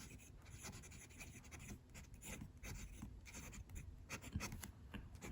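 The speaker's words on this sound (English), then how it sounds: "let's do a writing sample" A Shondesign Pocket 6 fountain pen with a Bock steel medium nib writes on Clairefontaine paper, giving a soft, faint, continuous scratching with short strokes and small pauses, close to the microphone.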